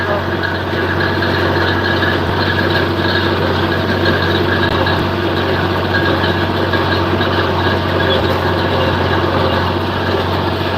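A John Deere 4020 tractor engine runs steadily under load while baling hay on a farm, a loud continuous low diesel drone with a constant hum and no pauses throughout.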